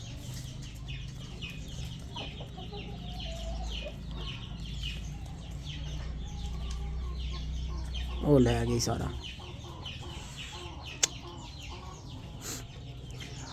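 Chickens cluck and squawk nearby on a farm, with a louder burst of calls midway and a sharp tap near the end, while someone talks briefly over them.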